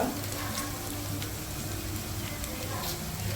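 A tempering with asafoetida for gongura dal sizzles steadily in oil, a soft continuous frying hiss nearby with a faint voice beneath.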